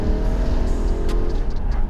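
A BMW M3, freshly serviced, drives with a steady, close engine drone and throaty low rumble that holds even and loud throughout, with no voices.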